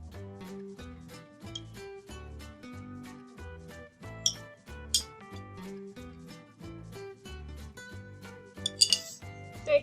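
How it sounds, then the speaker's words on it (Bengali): A spoon mixes a vegetable sandwich salad in a bowl, giving steady rhythmic clinks and scrapes of metal against the dish, repeated many times at close range and moderate volume. "তো আমি সালাডটা ভালোভাবে মিশিয়ে নিচ্ছি।"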